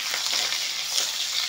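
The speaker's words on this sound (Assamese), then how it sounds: "পিঁয়াজখিনি ভাজি ল'লোঁ" Onions frying in a pan with panch phoron and bay leaf, a steady close sizzle that stays even and continuous throughout, with no voices.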